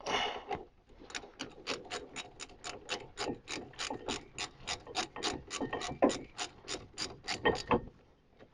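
A ratchet snugs up front brake bolts on a Citroen C3, a steady run of about twenty evenly spaced sharp clicks, close and clear with no talking.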